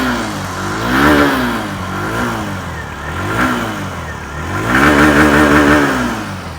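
A Hero Glamour X 125 motorcycle's exhaust is heard nearby as the throttle is blipped, the engine swelling into three rising revs and falling back toward idle between each, with no talking.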